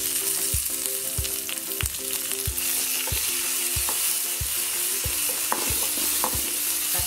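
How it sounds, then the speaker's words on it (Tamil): Tomato with onion, garlic and curry leaves sautés in a hot pan, a spatula scraping through it in regular strokes about every half second over a loud, continuous sizzle. Nobody speaks. "தக்காளி கொஞ்சம் வதங்கணும்"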